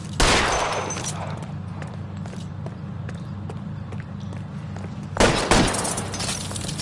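Video game gunfire in L.A. Noire: a loud volley of shots opens the exchange, steady background noise and scattered pops follow, then a second heavy burst of fire near the end.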